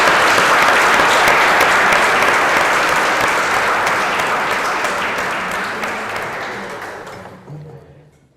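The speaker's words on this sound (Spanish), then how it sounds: "Un aplauso, hombre." Audience applause at a book presentation in a library in Elche, Spain: dense, loud clapping from a crowd that holds steady for several seconds, then fades and stops abruptly near the end.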